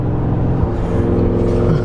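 Armytrix stage 2 exhaust on a 700 bhp Audi RS6, heard from the cabin as a continuous deep engine drone that swells slightly as the revs rise and fall.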